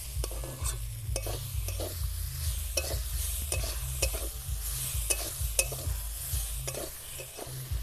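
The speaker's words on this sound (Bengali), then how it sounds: "ভালোভাবে একদম নেড়ে নিয়েছি 1 মিনিট মতো।" Lentil dal being stirred and fried in a pan, with a constant low sizzle and repeated scraping clinks of the spoon against the pan, close and fairly quiet.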